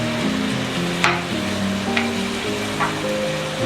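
Onion and yogurt masala frying in a pot over low heat, giving a continuous close sizzle with a low hum underneath and three brief scraping stirs, alone without talk.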